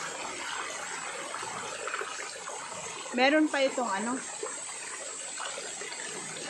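River water runs steadily as a broad, constant wash at a popular swimming spot in Japan in summer, with a short burst of speech partway through.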